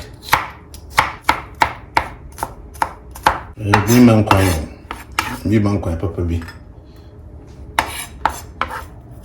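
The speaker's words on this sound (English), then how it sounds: "We chop our garlic." A knife chops garlic on a cutting board in a home kitchen, giving a run of sharp, evenly spaced close knocks. They break off for a stretch of clattering pans, then resume at a steady rhythm.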